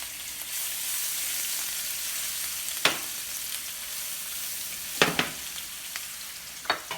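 Sun-dried tomatoes and garlic fry in olive oil in a pan for edamame pasta with shrimp, a steady close sizzle broken by a few sharp bursts and scrapes of stirring.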